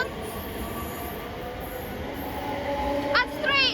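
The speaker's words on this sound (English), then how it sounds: "the Glasgow Central train leaving over here" A passenger train pulls out of Haymarket station toward Glasgow Central, a steady low rumble and wheel noise with rising squeals near the end, heard over a person talking.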